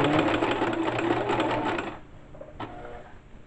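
A sewing machine stitches elastic onto ladies' panties in a fast, even buzzing run for about two seconds, then stops, leaving a faint click and quiet room tone.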